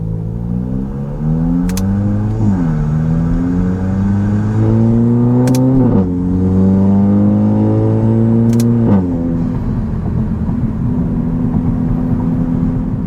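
A VW MK8 GTI with a Road Plus catback muffler revs up loud and close, rising in three repeated climbs with short drops between them, then settles into a steady idle-like rumble.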